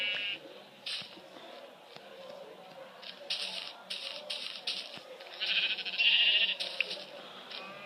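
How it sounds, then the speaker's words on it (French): Synthetic sheep bleats from Minecraft come in short bursts over a busy bed of clicks and background game noise, moderately loud. "On fait spawner des moutons."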